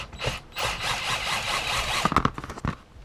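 A long threaded rod for a homemade twin-cylinder scooter engine being screwed into its hole while straightened with a small knife, close scraping and rubbing strokes that turn into a few sharp clicks and knocks near the end.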